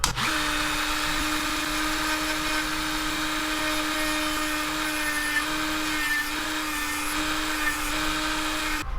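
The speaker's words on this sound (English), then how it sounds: "We're gonna use Just a little Dremel bit, ball bit. We're just gonna sink it in right there" Dremel rotary tool with a small ball bit boring into a small plastic fishing lure, a steady high-pitched whine held close and constant for nine seconds with no talking.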